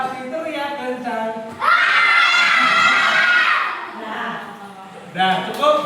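A group of children at an anti-bullying education session shout loudly together in a sustained burst, preceded and followed by an adult voice speaking.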